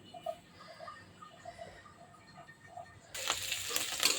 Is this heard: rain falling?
no